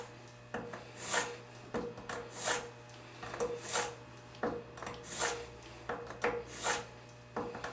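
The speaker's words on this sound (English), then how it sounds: "So this is just a little portable sharpener that I use. Give it 10 swipes real quick." A knife is drawn across a small portable sharpener in about ten quick, evenly spaced rasping swipes, close and fairly quiet over a steady low hum.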